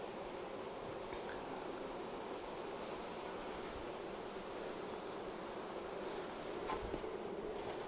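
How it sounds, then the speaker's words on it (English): Honey bees hum steadily around an open hive super as they are smoked back inside, a continuous, even drone of many wings close by with no talking. "we'll just smoke these bees back up into their super"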